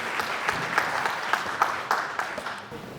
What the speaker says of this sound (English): Everyone give a round of applause for Jen,